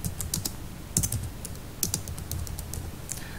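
Code is typed on a computer keyboard in quick bursts of close, crisp keystrokes with short pauses between them. No voice is heard.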